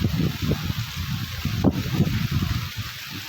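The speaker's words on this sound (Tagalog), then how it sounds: "Ang hangin guys" Strong wind gusts roar across the microphone outdoors, a loud, rough rumble that swells and fades in uneven bursts throughout.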